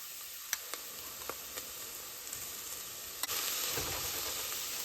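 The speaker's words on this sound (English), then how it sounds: "And we're just going to saute this till it's nice and fragrant" Sauteing in a pan produces a constant fizzing sizzle with a few light clicks of a utensil, then grows noticeably louder and fuller partway through, close and steady with no talking.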